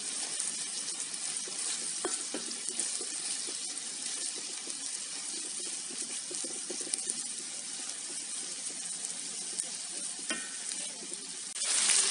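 Meat, onions and vegetables frying in a sac pan for kavurma, a dense continuous sizzle up close with occasional stirring clatter, growing a little louder at the very end.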